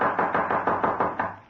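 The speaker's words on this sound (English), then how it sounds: "a loud knocking at his door startled him" Loud knocking at a door in an old radio mystery drama, seven or eight sharp, evenly spaced raps in quick succession, close and alone with no voices.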